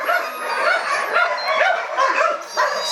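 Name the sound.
dogs whimpering during mating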